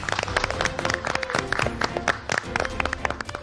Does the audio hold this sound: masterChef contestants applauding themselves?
yes